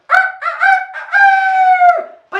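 A human voice imitates a rooster's crow, a rising then long sustained call, loud and close, with brief vocal bits before and after.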